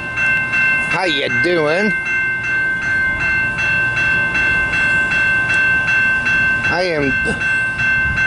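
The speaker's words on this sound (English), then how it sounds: "at the bus and train station in Battle Creek, and Amtrak just pulled up" An Amtrak Wolverine passenger train idles and rumbles at the Battle Creek bus and train station with steady mechanical hum and a high tonal whine, while someone talks briefly over it twice.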